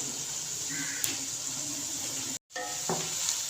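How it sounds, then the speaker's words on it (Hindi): Onions fry in a karahi for chicken karahi, a steady sizzle with light stirring clinks, briefly cut by a moment of silence before the frying hiss resumes. "प्याज हमारे फ्राई हो रहे हैं।"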